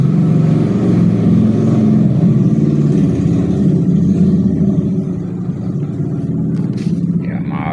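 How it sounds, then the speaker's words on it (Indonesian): A motorcycle engine runs loud and near with a steady, throaty rumble, easing slightly toward the end. "maaf ini karena ada suara daripada motor"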